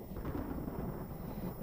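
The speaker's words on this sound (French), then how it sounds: "C'est qu'un petit orage." Low, rolling thunder from a dry storm with lightning but no rain in a horror film, a quiet continuous rumble that fills the whole stretch without any sharp crack.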